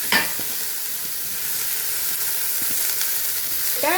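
Chopped cabbage for cabbage poriyal stir-frying in a pan gives a steady, close hiss of sizzling, with a few faint scrapes of stirring and no talk.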